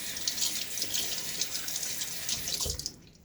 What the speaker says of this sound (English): And then I'm going to rinse out my puck here